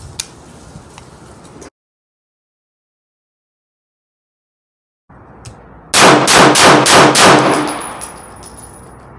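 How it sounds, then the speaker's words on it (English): Five rapid, evenly spaced pistol shots from a Lion Heart LH9 9mm handgun ring out loud and close after a stretch of silence and quiet room tone, each crack sharp with a brief metallic ring trailing off. "now I'm gonna try 5-shot rapid fire"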